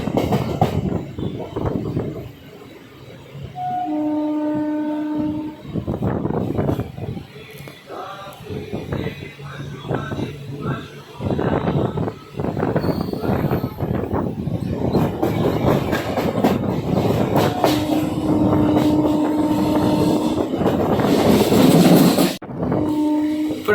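A MEMU intercity train rolls between Kakinada and Rajahmundry, its wheels clattering steadily with rhythmic clacks, some squealing and a few sustained tonal whines, heard from on board with no talk.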